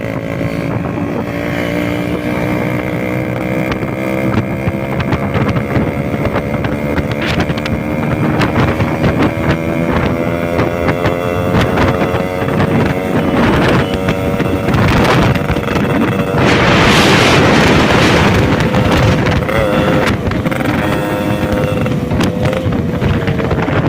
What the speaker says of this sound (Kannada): ಓಡಿಸುವಾಗ ಸುಮ್ಮನೆ ಸೈಲೆಂಟ್ ಆಗಿ ಗಾಡಿ ಸೌಂಡ್ ಕೇಳಿಸ್ಕೋಬೇಕು ಅನ್ಸುತ್ತೆ